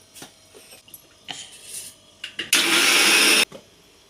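A mixer grinder grinding soaked green gram into batter runs in one loud, steady burst of about a second, preceded by scattered clicks and handling noises and ending abruptly.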